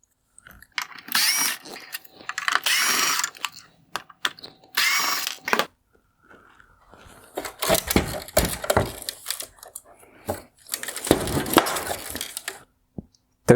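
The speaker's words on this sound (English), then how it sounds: "I will begin by removing the T20 screws holding on the black bezel." T20 screws are driven out of the black headlight bezel on a 2020-2023 Land Rover Defender OEM LED headlight, several close bursts of buzzing power-driver whir separated by pauses with small clicks and handling noises.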